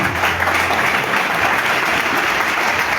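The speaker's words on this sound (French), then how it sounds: "Applaudissez vous-même." Loud, continuous applause from a crowd at a political address by Koua Justin, a dense, unbroken wash of clapping that holds steady for three seconds with no speech over it.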